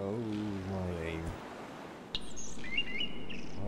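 Chirping bird calls from the video game Salt, set on an open ocean, come in short, bright tweets during the second half, after a low droning hum and a voice-like tone cut off.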